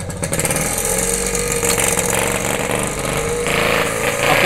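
A Ducati Monster motorcycle in neutral, firing up and settling into a loud, close, rough idle with a steady rhythmic engine beat throughout.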